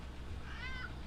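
A house cat gives a single clear, drawn-out meow at close range, rising then falling briefly against a quiet indoor background with a low hum.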